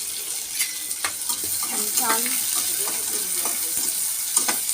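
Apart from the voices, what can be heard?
chopped onion sautéing in a pan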